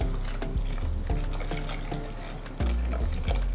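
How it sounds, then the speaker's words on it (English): Water poured into a pot with chickpea flour and whisked, a steady liquid wash with repeated soft knocks and scrapes of the whisk against the pot, close and fairly loud, no voices. "to a pot, we're gonna add 2 cups of chickpea flour and 3 cups of water"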